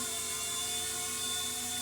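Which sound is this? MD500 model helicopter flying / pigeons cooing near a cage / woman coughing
MD500 model helicopter flying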